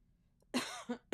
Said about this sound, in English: I'm coughing now just because I was thinking about it